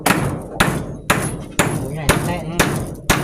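A hammer pounds in steady, forceful blows, about two per second, close by while a house is being built, with voices talking between strikes.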